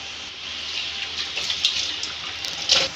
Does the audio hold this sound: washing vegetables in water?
yes